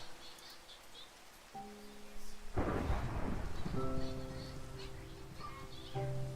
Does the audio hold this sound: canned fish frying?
no